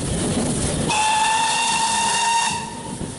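The steam locomotive Britannia's chime whistle sounds loudly, a sustained multi-note chime over steady hissing steam, then cuts off, leaving the hiss trailing away.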